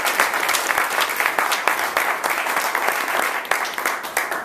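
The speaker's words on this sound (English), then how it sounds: "So if we could just give them a round of applause." A round of applause at a House District 2 Democrats meeting, with dense, steady clapping from a room of people, sharp hand claps standing out and loud from start to finish.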